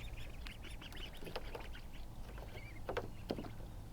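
Baby ducks hatched at home come out to play, with faint, high, scattered peeping and chirping over a steady low background hum, soft and somewhat distant.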